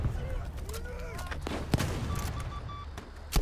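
Battlefield V bombs and gunfire go off in quick, sharp bursts at moderate distance, mixed with game effects and players talking over them.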